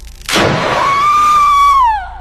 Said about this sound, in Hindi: फिर अपनी हड्डियों को मरोड़ते हुए जोर जोर से चिल्लाने लगी